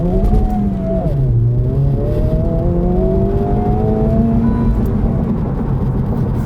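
A 2023 Honda Civic Type R hot hatch accelerates hard from 0 to 100, the engine droning loud and steady as its pitch climbs, drops briefly at a gear change, then climbs again, with no talking.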